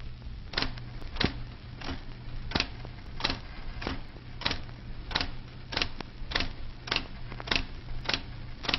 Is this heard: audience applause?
no